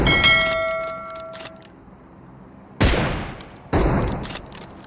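Gunfire from the mobile battle royale PUBG Mobile in third-person ranked play: two sharp, loud shots about a second apart, each with a decaying tail, after a brief metallic jingle.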